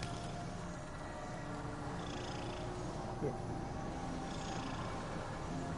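A pet cat purrs softly and steadily in a quiet room, the low continuous rumble running throughout, while a person speaks briefly nearby.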